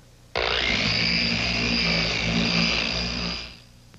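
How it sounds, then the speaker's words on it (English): A power sander runs along the edge of a plywood panel in a single continuous burst of about three seconds, starting abruptly, holding a loud steady buzzing whine, then winding down. "a quick run over the edge with the sander, and that takes care of it"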